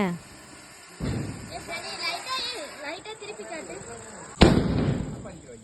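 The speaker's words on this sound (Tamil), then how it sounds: "பட்டாசு வெடிக்க போகிறானாங்க." Diwali firecrackers set off by a child outdoors, with a sharp crackling burst near the start and a louder bang later, while voices chatter and call out over the whole scene.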